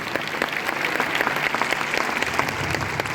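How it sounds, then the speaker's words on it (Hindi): An audience at a product presentation gives loud, sustained applause, with many hands clapping densely and evenly for several seconds in a hall. "जोरदार तालियां हो जाएं।"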